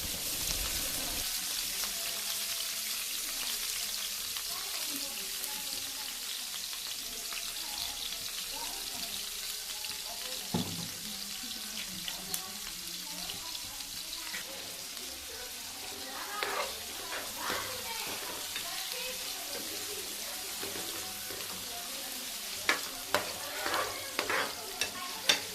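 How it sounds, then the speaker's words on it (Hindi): Onion and garlic fry in hot ghee in a pan for a tadka. A steady close sizzle runs throughout, broken by scraping stirs and clinks from the spoon that grow busier toward the end. "एक पैन में घी गर्म करके इसमें प्याज और लहसुन डालेंगे।"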